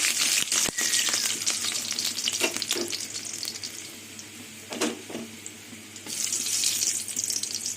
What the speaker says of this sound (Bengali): সবার প্রথমে আমি গোটা রসুনগুলো তেলে দিয়ে দেবো তেলে ভেজে নেবো রসুন